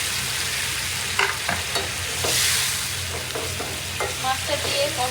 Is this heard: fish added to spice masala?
yes